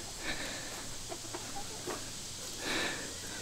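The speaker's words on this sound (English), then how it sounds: "Chickens love sawyer worms." Homestead chickens cluck in a few short bursts, with a louder flurry near the end, as hens and a rooster gather around sawyer worms from sawmill logs, close by outdoors.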